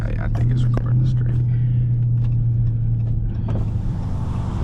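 A Dodge Charger R/T engine drones steadily while driving on back roads, heard from inside the car as a loud, continuous low rumble, with faint brief voice sounds.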